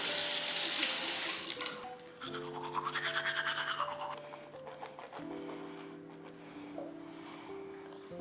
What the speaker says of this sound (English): We're gonna brush our teeth and get ourselves ready for today.